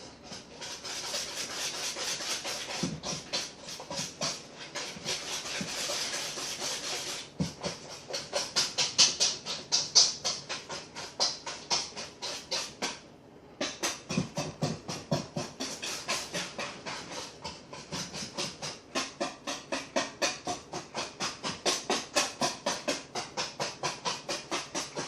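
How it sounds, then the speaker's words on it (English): Bananas are mashed into banana nut bread batter in a bowl, with rhythmic squelching, scraping strokes close up that repeat steadily and pause briefly near the middle. "you want to mash this until it's completely smooth and all your bananas lump free"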